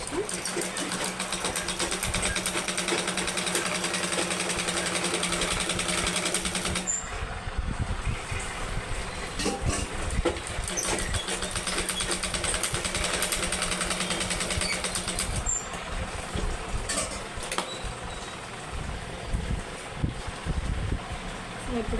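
Sewing machine running in long, steady bursts while stitching a blouse, a close mechanical whir that stops briefly twice between runs, with faint background noise.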